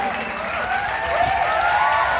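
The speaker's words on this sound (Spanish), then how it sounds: "Aplauso para esta belleza." Audience applause at a live salsa concert, a steady crowd clapping under sustained singing or music tones, with voices carrying over the top.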